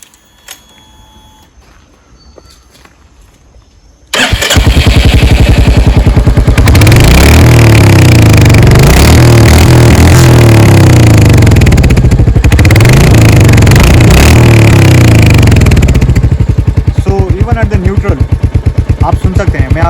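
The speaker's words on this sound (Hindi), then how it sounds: "वो है इसका रॉयल फील और रॉयल एग्जॉस्ट नोट।" A 2025 Royal Enfield Hunter 350 in Rebel Blue fires up after a quiet moment, settling into a loud, close, steady thumping idle with a deep pulsing exhaust beat that runs on without revving.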